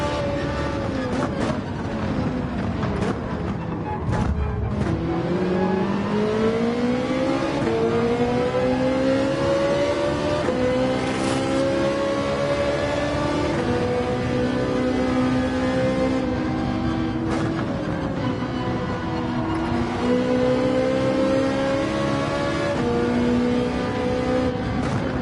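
A Ferrari in Gran Turismo 7 revs hard through repeated gear changes, its loud engine note climbing and dropping again in steady sweeps, with brief breaks between shifts, close and continuous with no talk over it.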